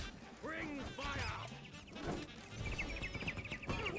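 Cartoon birds in the game For Honor let out a rapid string of quacking, squawking calls amid combat clatter, moderately loud throughout.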